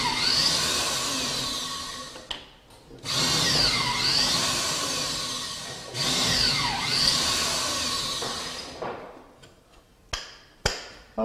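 Power drill boring pocket screw holes in wood for a newel post cap, two long whining runs broken by short pauses, then a few sharp knocks at the end, close and loud with no speech.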